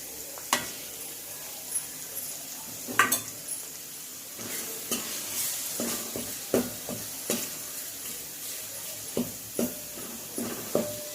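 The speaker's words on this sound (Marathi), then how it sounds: "तर त्याच्यामध्ये हे मसाले घालून चांगलं परतून घेऊ।" Spices sauté in hot oil in a cooking pot for a Maharashtrian village-style chicken curry, a soft steady sizzle broken by repeated scrapes and clinks of a stirring spoon against the metal, close by.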